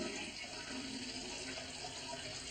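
A toilet flushing in a bathroom, a steady rushing wash of water that runs the whole time, faint and even, with no talk.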